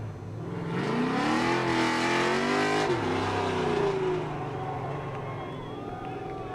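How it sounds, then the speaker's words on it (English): Crown Victoria race cars run at Irwindale Speedway. Engines roar past fairly close with rising and falling pitch as they accelerate, then the sound fades to a distant rumble. "Next up, Crown Vics are going to be coming your way."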